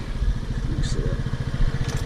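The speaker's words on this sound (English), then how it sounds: "Turn the moped off." A moped engine runs close by with a steady, rapid putter, its idle rumble continuous throughout.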